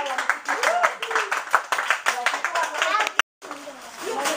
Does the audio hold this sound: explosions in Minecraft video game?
no